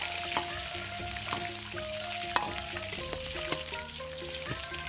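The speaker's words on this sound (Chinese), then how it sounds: "葱姜蒜爆香" Scallion, ginger and garlic sizzle and crackle steadily in hot oil in a wok, with clinks and scrapes from stirring throughout.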